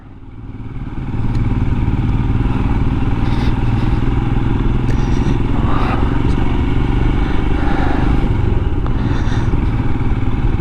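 Royal Enfield Himalayan 411 motorcycle riding along a road, a steady loud engine drone with wind rush and occasional clatter running continuously after a quieter first second.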